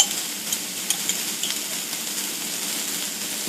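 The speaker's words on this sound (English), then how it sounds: "I've got the beef in over medium-high heat to start browning it" Ground beef browns in a pan over medium-high heat, giving an even, close hiss and crackle with small pops and light stirring clicks, steady and unaccompanied by talk.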